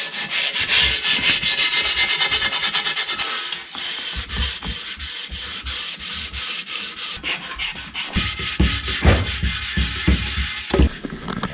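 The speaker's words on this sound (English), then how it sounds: "Sandpaper works, but it's really time consuming." Sandpaper rubbed steadily by hand along a mountain bike frame during a strip-down for a budget singlespeed build, a loud, continuous scratchy rasp with quick back-and-forth strokes and brief pauses, close up with no talking.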